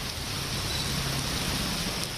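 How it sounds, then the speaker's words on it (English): Heavy rainfall in Kerala, a dense, loud, continuous hiss of rain pouring down with no pauses and no voices. "Heavy rainfall has brought much needed respite from the scorching heat in many states over the last 2 weeks"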